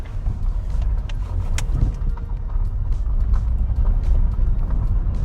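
A manual car idles and pulls away on a hill start, its engine a steady low rumble heard from inside the cabin, continuous and fairly loud with no clear speech.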